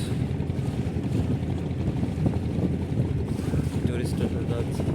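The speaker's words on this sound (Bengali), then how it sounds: "আর এটা হলো টুরিস্ট বোট," A tourist boat passes on the Pashur river, its steady low engine rumble and water wash continuous throughout, with wind buffeting the microphone.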